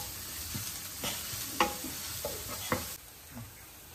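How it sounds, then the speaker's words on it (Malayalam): Onions with ginger garlic paste are stirred in a hot pan, a spoon scraping in several separate strokes over a low, steady sizzle of frying. "അപ്പോൾ നമുക്ക് ഇത് നന്നായിട്ടൊന്ന് ഇളക്കി കൊടുക്കാം."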